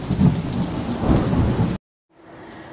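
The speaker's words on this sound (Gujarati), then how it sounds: "હાલમાં સંતરામપુરમાં વરસાદની એન્ટ્રી" Heavy rain pours steadily with a deep rumble of thunder during a thunderstorm in Santrampur, the roar cutting off abruptly, then returning after a brief silence as softer, steady rainfall.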